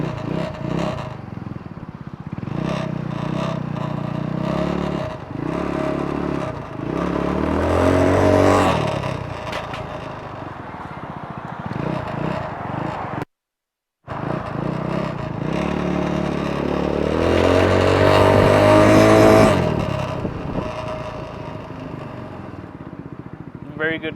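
Boss Motor Dragon 200 automatic sports motorcycle accelerating while ridden, engine note rising and falling through repeated throttle pulls, loud and close with wind and road noise, a brief dropout midway.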